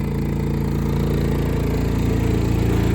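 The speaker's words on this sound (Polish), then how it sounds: "Stoję też teraz koło tej rury wydechowej, trochę bardziej prykanie słychać" An inverter generator engine runs steadily and loudly under load with a deep, throbbing exhaust pulse, recorded close to the exhaust pipe, continuous with no talking.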